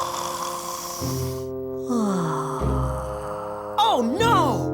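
The cartoon character Snoring Beauty snores in a children's nursery rhyme show, a voice performing exaggerated, musical snores with sliding pitches and wobbly whistling tones over a sustained background tune.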